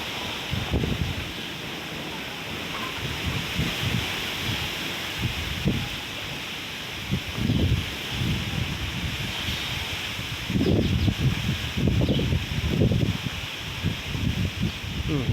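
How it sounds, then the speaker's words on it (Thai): Strong wind gusting outdoors at an ancient temple construction site on a sunny day, a continuous loud roar and rustle, with bursts of a voice breaking through at intervals. "ฟังเสียงลมได้เลยครับ"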